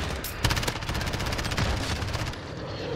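Rapid, sustained automatic fire from an MP7 in Modern Warfare, a close, loud stream of evenly spaced shots lasting nearly three seconds.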